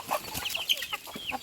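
Free-range country chickens on a small poultry farm cluck in short, uneven bursts close by, with rustling and movement between calls and no voices.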